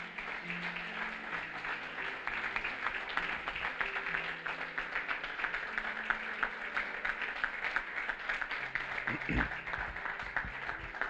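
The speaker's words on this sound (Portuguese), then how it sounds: "Você pode aplaudir o Senhor por isso?" A church congregation applauds steadily throughout, dense clapping filling the space at moderate distance with a few faint voices underneath.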